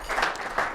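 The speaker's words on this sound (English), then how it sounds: "Give John a round of applause." Brief burst of audience clapping for a volunteer at a networking talk, a short, moderately loud wash of hands under a meeting-room ambience.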